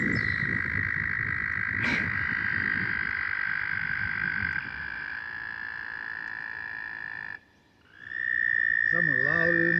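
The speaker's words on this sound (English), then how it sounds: "if we have frogs, and I can listen to this all day long, I love it" Frogs on a small homestead croak in a dense outdoor chorus, one loud trilling call dominating, with a brief sharp knock and a short dip near the end before the chorus resumes.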